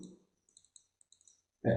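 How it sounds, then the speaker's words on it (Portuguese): Computer mouse double-clicked during a JavaScript events lesson, heard as a few faint, sharp clicks in a quiet stretch after a brief voice, before talking resumes loudly. "Dou clique duplo."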